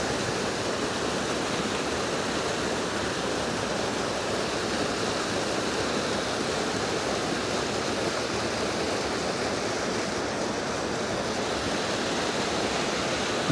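Water rushing over a river dam in Bailen, Cavite, a dense, steady roar of flowing water that stays loud and even throughout with no talking.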